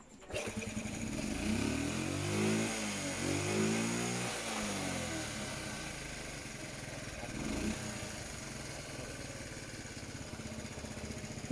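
A C50cc motorcycle engine runs after a carburetor adjustment, idling close by with a steady chugging putter that rises briefly in the first seconds before settling into an even, slightly uneven idle.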